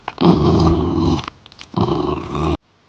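A dog growls low and loud close by in two long, rumbling stretches separated by a brief pause, ending abruptly in silence.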